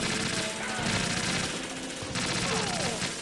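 Rapid AK rifle fire in the video game Metal Gear Solid 2, dense bursts of shots running almost continuously over a busy game soundscape.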